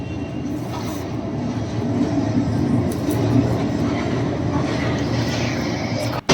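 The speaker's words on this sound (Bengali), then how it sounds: "পাশ দিয়ে রেল যাচ্ছে" A train passing a railway station right beside a kitchen veranda, a loud, continuous near rumble and rattle that swells and holds for several seconds, with no talking.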